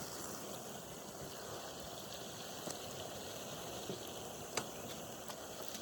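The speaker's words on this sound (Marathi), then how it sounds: "कांदा शिजायचा चालू आहे बघा" Onion cooks on a wood-fired clay stove, giving a faint, steady, watery hiss with a few soft pops and no voices.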